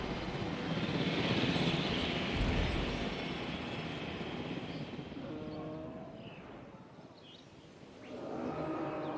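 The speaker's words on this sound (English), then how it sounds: "Hold the chopper still." A helicopter in the Jurassic World Evolution video game hovers with a continuous loud rotor and engine roar that dips slightly before swelling again, heard alone.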